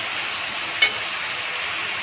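Onions frying in a pan, a steady broadband sizzle running throughout with one brief clink or stir partway through, and no one speaking.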